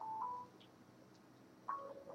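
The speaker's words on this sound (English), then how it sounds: "Sorry, my phone's ringing." A mobile phone rings faintly in the background with two short electronic tones about a second and a half apart, alone without talk.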